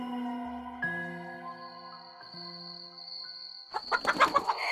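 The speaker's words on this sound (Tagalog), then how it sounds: "Sarap na sarap siyang sinasakmal ang buhay na manok." A live chicken clucks as it is mauled in an audio drama effect, a rapid cluster of loud, choppy clucks bursting in near the end over sustained, droning tones.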